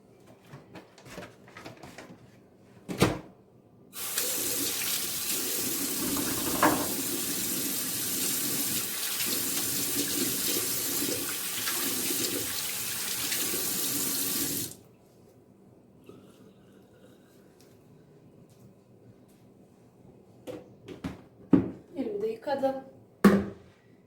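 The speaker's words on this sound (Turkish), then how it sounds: "Elimi de yıkayayım." Hands being washed under a running kitchen tap while baking a tart-pan cake, a steady rush of water for about ten seconds, bracketed by quiet handling sounds and a voice.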